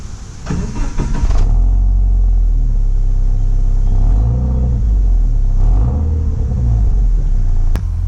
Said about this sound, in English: I think the exhaust probably needs a little bit more, just to sound a bit more raspy